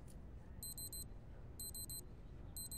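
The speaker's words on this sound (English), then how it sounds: "You're beeping." A faint electronic alarm beeps in quick groups of four, repeating about once a second over a low background hum.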